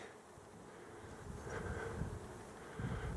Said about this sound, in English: these bushes are abuzz with bees